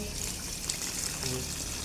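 Water poured from a container into a pot of Thai catfish tom yum with eggs, a steady close splashing pour that runs for about two seconds with no talk.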